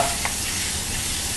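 Meat sizzling and being tossed in a frying pan while cooking pasta with onions, a steady broadband frying hiss with a brief stir or toss near the start, close and even throughout.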